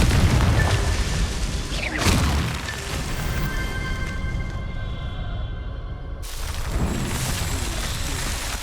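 A Confringo spell detonates in the Hogwarts Legacy video game, a loud booming blast with a sharp burst and rumbling tail, followed by a sustained crackling roar and then a second surge of noise.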